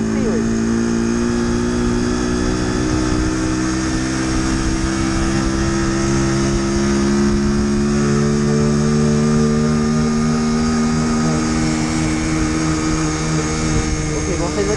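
A car overtakes a 50cc four-stroke motorcycle on a 30 km/h limited road, its engine drone blending with the bike's steady, loud engine hum and wind noise throughout.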